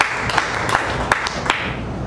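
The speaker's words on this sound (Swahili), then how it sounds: "Tumpigie Ezekieli makofi kwa kuitii sauti ya Mungu." A church congregation claps in a loose, modest round, with sharp individual claps standing out at a regular beat over a low hum of the room.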